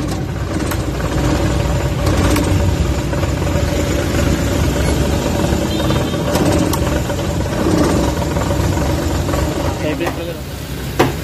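A Suzuki K6A car engine idles with the air conditioning and fan on, shaking with a rough, steady drone and faint knocks while someone talks over it throughout.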